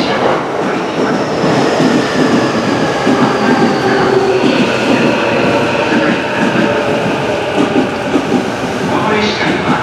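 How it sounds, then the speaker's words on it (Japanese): An E231-800 series train rolls into platform 5 at Mitaka Station on the Chuo Rapid Line with a steady rumble, rising wheel screech and rail clatter, while a platform announcement voice carries over the noise. "まもなく5番線に快速列車が参ります。"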